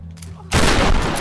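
A gunshot goes off in the video game Tomb Raider Definitive Edition, one sudden loud blast that follows a short quiet stretch with low hum and then rolls on as a broad roar.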